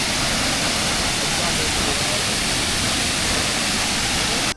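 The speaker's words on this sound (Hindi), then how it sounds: "ये रहा ऑब्जर्वेशन एरिया और वो रहा वाटरफॉल।" A waterfall near Munnar, Kerala, heard from an observation area as a loud, steady broadband rush of falling water, continuous and unbroken.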